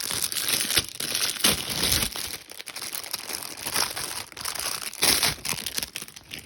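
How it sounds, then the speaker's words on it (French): Rigid plastic chocolate bar mould being opened, giving continuous close crinkling and crackling plastic with a few sharper snaps, fairly loud throughout. "je vais ouvrir le moule"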